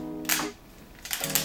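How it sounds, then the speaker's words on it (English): A Leica M6 film camera shutter fires twice, each release a soft, quick mechanical click about a second apart, close and fairly quiet. "I can show you the shutter sound of my M6."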